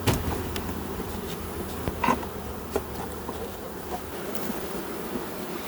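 A steady, dense drone of many honeybees buzzing close by at a hive box, continuous throughout with a few louder individual passes.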